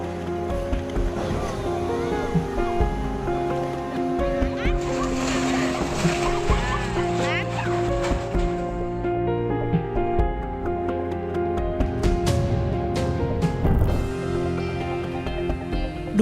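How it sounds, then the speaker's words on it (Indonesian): A river in Padang, the Batang Kuranji, flows after a flash flood and keeps scouring its bank beside threatened houses. The turbulent water rushes and splashes steadily beneath a continuous tonal bed with layered hum, and no one speaks. "gerusan air sungai yang berlangsung terus-menerus"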